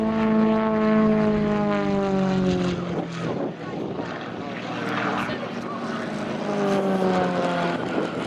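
A propeller airplane's engine drones loud and continuous at an airshow during a torque roll, its pitch sliding down and then rising again as the aircraft hangs on its engine and turns.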